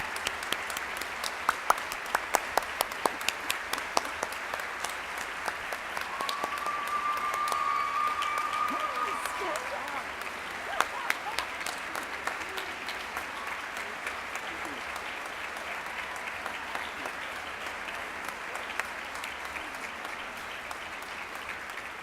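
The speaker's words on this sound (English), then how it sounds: "I would really like for everyone to applaud the Garbutts." Audience applause at a university honors college recognition ceremony during May commencement, a broad, sustained wash of clapping from a large crowd at moderate level, with some voices mixed in.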